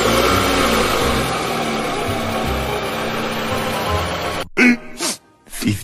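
A car engine runs with a steady, fairly loud drone for about four and a half seconds, then cuts off abruptly, followed by a few short, separate bursts of sound.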